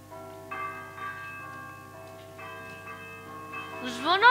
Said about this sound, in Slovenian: Zvonovi pojo.